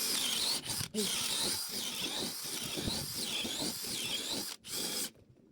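A Bosch cordless drill whines at close range with a 10 mm wood bit, its pitch wavering as it bites into wood, with brief pauses and a final stop.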